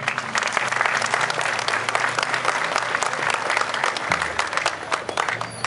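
A crowd at a Schützenfest shooting club festival gives dense, sustained applause, loud and continuous from start to finish, with a steady hum underneath.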